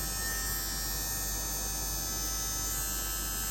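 A cheap electric nail file bought from TEMU runs continuously, a steady buzzing motor hum with a bright whine, close and constant with no speech.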